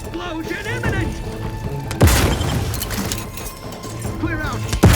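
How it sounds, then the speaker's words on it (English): A sudden heavy boom with a sharp crash hits midway through gunfire-laced combat in The Outer Worlds 2, followed by another blast at the end, with voiced dialogue and game music running underneath. "Explosion imminent."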